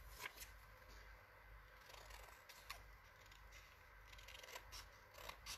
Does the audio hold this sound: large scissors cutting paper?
yes